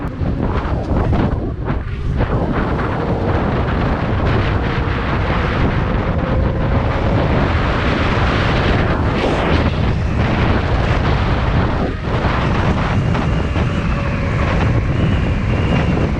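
Wind roars loudly and steadily across the microphone while riding an 8kW electric bike, a constant buffeting rush that masks nearly everything else, with a faint rising motor whine beneath.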